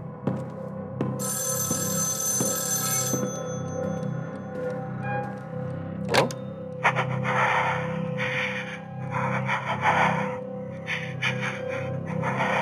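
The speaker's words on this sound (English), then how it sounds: "is the phone ringing?" An old-style telephone bell rings in the PS5 horror game Evil Inside, a loud metallic trill at first, then broken rubbing and scraping noises over a low background drone.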